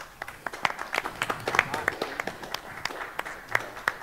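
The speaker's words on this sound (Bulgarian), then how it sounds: "аплодисменти." Audience clapping to send off the guests, a steady patter of claps with some sharper individual hits, moderately close and lasting a few seconds.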